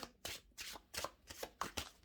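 Tarot cards shuffled by hand in a run of quick riffling bursts, about seven close, crisp rustles at a steady rhythm with short pauses between, heard alone with no talking.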